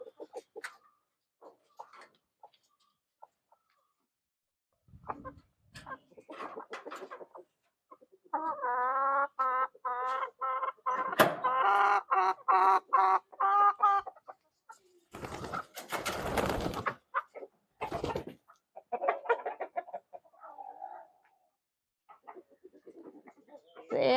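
Chickens cluck and squawk in scattered bursts after being let out of their coop, with a stretch of busy, overlapping clucking and some loud rustling or flapping noises in between.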